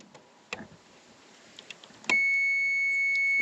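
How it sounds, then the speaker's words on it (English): A multimeter in continuity mode gives a steady, loud electronic beep as its probes bridge a good fuse, starting abruptly partway through after a few soft handling clicks. "it should beep if it's good"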